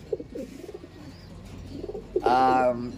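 Soft murmuring voice for a moment, then a loud, close burst of pigeon cooing inside a loft, with rich harmonic tones near the end.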